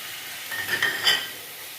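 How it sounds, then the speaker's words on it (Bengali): Raw prawns drop into a sizzling spice paste for prawn curry and are stirred, giving a short soft hiss with a few scraping stir strokes, close and fairly quiet, no voices. "এর মধ্যে দিয়ে দেবে এবার কাঁচা চিংড়ি মাছগুলো"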